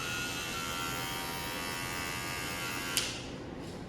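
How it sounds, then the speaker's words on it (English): Older electric hair clippers fitted with a black grip and a wrap on the front plate run in a steady, close buzzing drone, with a short click near the end. "this is one of my older clippers, so it isn't the strongest, but it does get the job done"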